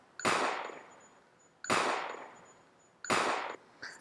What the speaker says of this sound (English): we're going to bring the sound of our shell casing into the mix